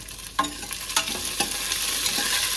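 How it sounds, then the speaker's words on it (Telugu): Mutton curry ingredients sizzle in a pan while a spoon scrapes and stirs them, giving several distinct scraping strokes over a steady frying hiss, close up with no talk. "ఇదంతా వేసి బాగా ఫ్రై చేసుకున్నాను"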